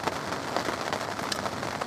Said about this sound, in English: this stormy weather, or the torrential rain, has moved in